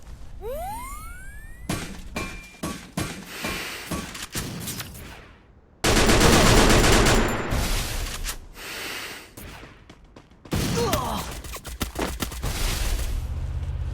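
Bursts of gunfire from the video game Free Fire, with sharp cracks and rapid volleys in several loud clusters, broken by brief quiet gaps and a dense, sustained barrage in the middle.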